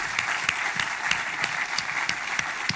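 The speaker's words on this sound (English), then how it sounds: "Another round of applause." Conference audience at a closing session clapping steadily, a dense sustained patter of many hands at moderate level with no voices over it.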